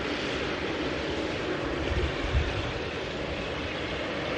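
A Boeing 787 Dreamliner arriving at Manchester after a short flight from Glasgow, heard as a steady, moderate broadband engine rumble with a brief swell near the middle, no voices over it.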